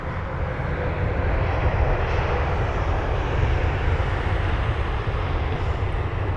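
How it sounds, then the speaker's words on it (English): A Virgin Atlantic Boeing 787-9 Dreamliner jet from Los Angeles at London Heathrow gives off a steady, deep engine roar, loud and fairly close, holding level throughout with no talk over it. "There's the Virgin Atlantic 787."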